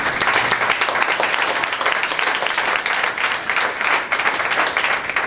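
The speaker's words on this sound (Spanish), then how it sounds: "Un fuerte aplauso." Strong, steady applause from a church congregation during a Sunday service fills the space. The clapping is dense and continuous and runs the full length without anyone speaking.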